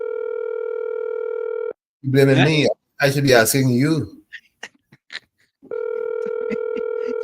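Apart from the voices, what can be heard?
telephone ringing sound effect on radio show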